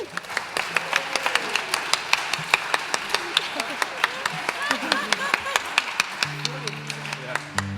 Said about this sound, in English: these two deserve a special round of applause for their Welsh pronunciation